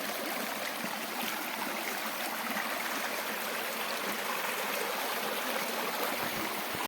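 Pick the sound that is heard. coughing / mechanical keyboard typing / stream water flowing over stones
stream water flowing over stones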